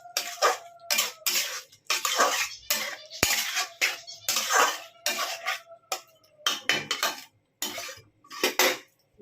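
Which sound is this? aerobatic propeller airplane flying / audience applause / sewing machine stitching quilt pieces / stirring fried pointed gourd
stirring fried pointed gourd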